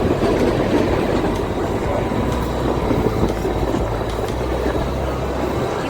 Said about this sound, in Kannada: ಇವಾಗ ನೀವು ನನ್ನ ಜೊತೆ ಈ ಟಾಯ್ ಟ್ರೈನ್ ಜರ್ನಿಯ ವ್ಯೂವ್ನ ನೋಡ್ತಾ ಎಂಜಾಯ್ ಮಾಡಿ